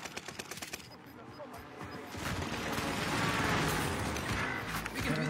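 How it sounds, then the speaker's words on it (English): Precision airstrike in a battle royale video game: a loud, dense barrage of explosive blasts and gunfire-like bursts that swells from about two seconds in and stays heavy to the end. "Ally precision airstrike incoming"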